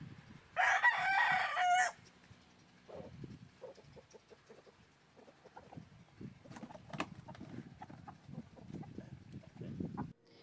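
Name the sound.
chickens and rooster crowing while being boxed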